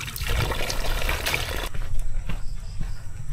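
Cold water flowing along a mountain trail on Mount Barundon in Porac, Pampanga: a loud, steady, close rush and splash that softens partway through into a lighter trickle.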